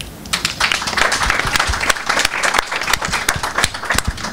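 An audience at a poetry slam performance bursts into dense applause, many hands clapping in a continuous, lively wash of sharp claps that carries on throughout.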